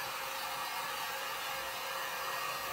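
Hair dryer blowing on a wet brush, a faint steady airy whoosh with no breaks, running alone at low level.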